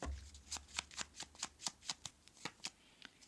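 A deck of tarot cards is shuffled by hand in a quiet room, producing a quick, even series of about a dozen crisp riffling snaps close to the microphone, with no speech.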